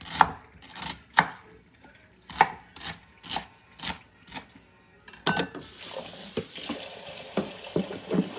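Onion finely minced with a knife on a board in a home kitchen, a steady run of crisp, close chops that later turns quicker and denser over a busier kitchen background.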